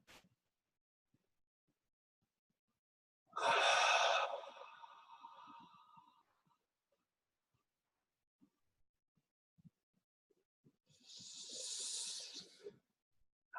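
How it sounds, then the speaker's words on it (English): Two long, slow breathing exhales, done as a calming down-regulation exercise. Each is a soft, airy rush lasting about three seconds and fading out, separated by a long quiet gap, with nothing else around them. "let's do a few breaths of long, slow exhales"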